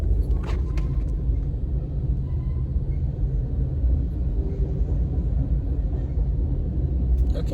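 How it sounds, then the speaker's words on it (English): A long freight train rolls past with a continuous heavy low rumble that holds steady throughout, loud and near, with faint higher clatter on top. "I'm looking at a train right now."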